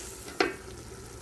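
Heated water is poured onto rice already fried in a pot while vegetable khichuri is cooked, giving one sharp, loud hiss that fades quickly over a faint background of cooking. No one speaks.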